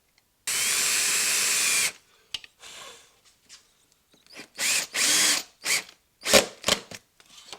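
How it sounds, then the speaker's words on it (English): A power drill driving screws through aluminium stair nosing onto an LVT-covered stair tread: one steady whirring run of about a second and a half, then a series of shorter, choppy bursts close by. "When screwing the nosing on, make sure your nosing is square on the tread."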